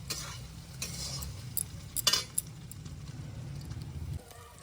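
Potatoes frying in a pan for spinach paneer paratha filling give a steady low sizzle with occasional stirring scrapes and clinks, close and moderately loud, no talking.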